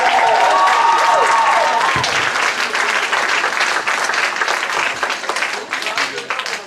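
A warm round of applause from a village pantomime audience and cast at an awards evening, loud and full from the start, thinning slightly as it goes on, with voices mixed in beneath the clapping.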